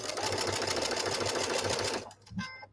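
A sewing machine stitching a long chain of quilt pieces for snowball blocks runs with a fast, steady mechanical whir and a rhythmic thump, close and loud, then stops abruptly, leaving a brief rustle.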